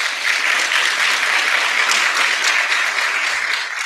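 Audience applause at a graduation ceremony for Class 179, a dense, steady clapping from a crowd that holds at full strength throughout, with no speech over it.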